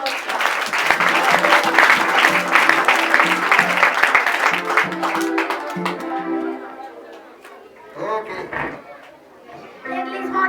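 A church congregation applauds warmly, a dense patter of clapping mixed with voices and singing, then thinning out before a short renewed burst.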